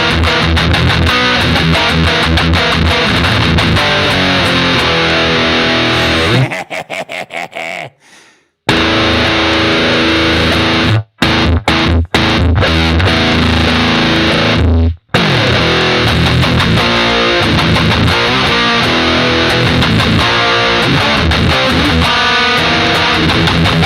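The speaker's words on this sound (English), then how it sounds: "when you run this fuzz with this distortion," Electric guitar pushed through stacked fuzz and distortion on a Jazz Chorus amp modelling app for iOS, a loud saturated wall of chords with abrupt stops and brief silences between bursts.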